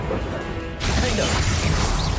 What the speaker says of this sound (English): Все, упал шкафчик.